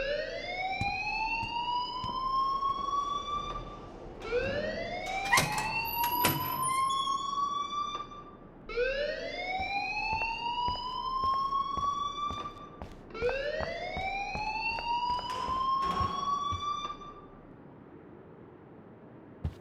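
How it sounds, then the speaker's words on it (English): A fire alarm wails in the video game Life Is Strange, its rising siren sweep repeating four times in a steady loud cycle with no talking. "please turn off that alarm since that's your job"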